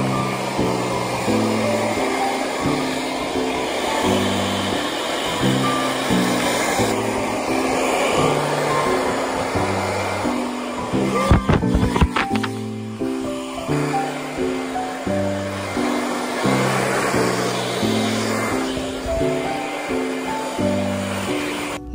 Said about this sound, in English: Now I'm gonna hair dry my hair or blow dry my hair